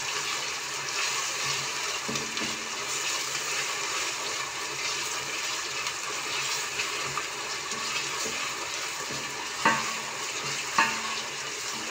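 Tomato paste frying with onions in a pot for a spinach-root soup, a continuous close sizzle with stirring scrapes and two sharp utensil knocks near the end.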